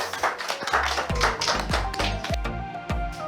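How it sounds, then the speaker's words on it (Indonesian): A small group claps for the Genesis Dogma esports team, sharp close hand claps in an uneven rhythm with some heavier thumping taps, fairly soft overall. "Tepuk tangannya"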